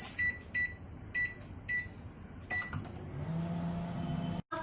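A convection oven is set to 180 degrees for baking a cake: a series of short electronic beeps from the control panel, then the fan and element hum steadily up close.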